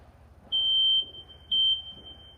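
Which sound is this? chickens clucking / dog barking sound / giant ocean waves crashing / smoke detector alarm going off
smoke detector alarm going off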